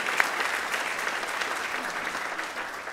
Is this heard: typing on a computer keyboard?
no